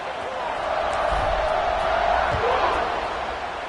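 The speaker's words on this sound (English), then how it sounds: "They're set to kick it off, and this crowd now ready to get behind them" A stadium crowd roars steadily at a college football game between SMU and NC State as the kickoff is set, a broad wash of noise under a commentator's voice.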